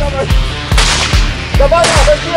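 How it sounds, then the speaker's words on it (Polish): Gunfire at close range in a tactical skirmish, with several sharp loud shots in quick bursts spread across the moment, each cracking hard against a busy background. "Uwaga! Z wozu! Strzelają! Strzelają!"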